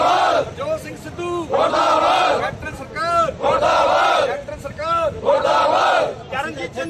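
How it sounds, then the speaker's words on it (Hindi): Farmer union groups staging a heavy protest at Sri Chamkaur Sahib, with a loud crowd repeatedly raising slogans and battle cries in surging waves, dense shouting voices filling the space throughout. "श्री चमकौर साहब पहुंचने मौके सिद्धू का किसान जथेबंदियों वालों भारी विरोध किया गया।"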